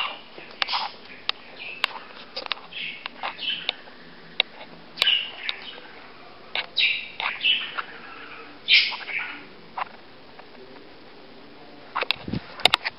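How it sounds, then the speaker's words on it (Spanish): A pet parakeet sings in bursts of bright chirps and tweets, close by, with short gaps between phrases and a brief low rustle near the end. "Ya empezó otra vez el perico a cantar."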